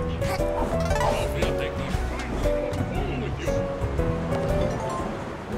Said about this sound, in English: It's still pouring down outside.